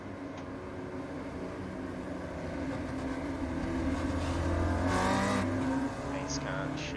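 Race car engines in the iRacing sim at Tsukuba Circuit, Spec Racer Ford cars droning and revving together behind the pace car, swelling louder midway, with commentary speech over the top.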